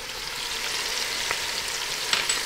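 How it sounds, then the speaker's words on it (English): Onion, garlic and hot pepper flakes fry in a pan for a meat ragù, giving a loud, steady close-up sizzle with a few faint stirring clicks. "Now we gotta caramelize really good the garlic and the onion."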